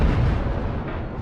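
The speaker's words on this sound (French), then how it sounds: "Ça fait des petites explosions" Small explosions go off in the video game Watch Dogs, a dense, continuous low rumble of blasts filling the whole moment at loud volume, with no talking over it.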